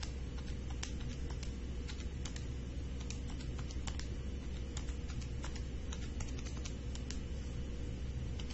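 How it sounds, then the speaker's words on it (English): Keys tapped on a computer keyboard as entries are typed in, a quiet, irregular patter of clicks running steadily throughout over faint background hum, with no talking. "go ahead and type in those entries"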